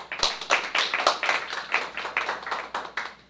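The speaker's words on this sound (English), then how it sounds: "let's give him a warm round of applause to get him started with his presentation" A seminar audience claps for the speaker, a thin, fairly steady patter of individual hand claps close by, settling into a loose rhythm and thinning slightly toward the end.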